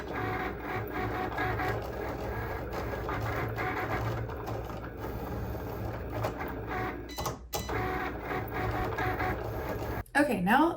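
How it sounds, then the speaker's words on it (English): A Cricut cutting machine cuts waterproof stickers, a steady mechanical whirring and clicking at close range with a quick motor burst at the end, and faint speech can be heard underneath. "And then you press the little Cricut button to get it started with cutting."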